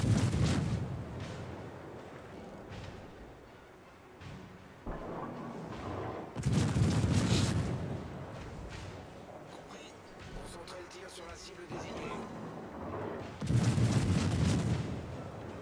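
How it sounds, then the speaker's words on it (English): The Mainz, a German tier 8 premium cruiser in World of Warships, fires its 150mm naval guns in heavy booming salvos, with three loud broadside volleys separated by rumbling lulls and someone talking in the background. "it's 150mm guns"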